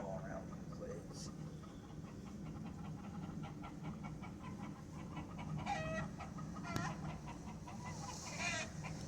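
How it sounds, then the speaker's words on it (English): Chickens and a rooster cluck and call around a home yard, scattered calls near and far over a steady outdoor background with faint voices. "I'll show you a quick clip of the chickens in my yard"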